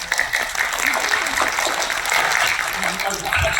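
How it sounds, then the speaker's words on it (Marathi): A crowd claps in steady applause, a dense, continuous patter of many hands holding at an even level, with voices mixed in. "आपण टाळ्या वाजवायचा"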